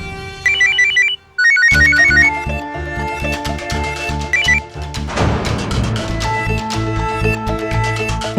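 A mobile ringtone plays a bright repeating electronic melody, loud and close, ringing on through several rounds without being answered, no voices over it.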